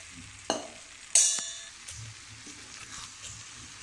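Chicken kulambu with chilli powder stirred in a pan: two sharp scraping clatters of a spoon against the pan at close range, followed by a quieter, steady sizzle and faint stirring noises, with no talking.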